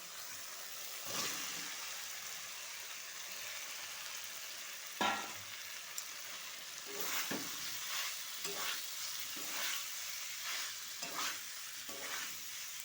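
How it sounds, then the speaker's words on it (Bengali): Fried pointed gourd and potato being stirred into cooked-down spice masala in a pan: a constant close sizzle of oil with repeated scraping strokes of a spoon, no voices. "এবার দিয়ে দেবো এর মধ্যে ভেজে রাখা পটল আর আলু।"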